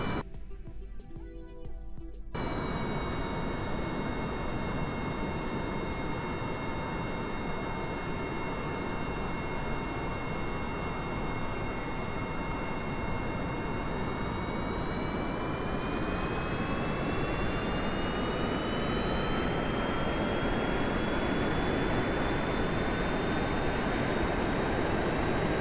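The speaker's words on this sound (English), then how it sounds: "Let's spool the engines down." Aircraft jet engines in a flight simulator spool down after a short burst of clicking, a loud, steady roar with high whining tones that slowly drift and shift in pitch over the whole stretch.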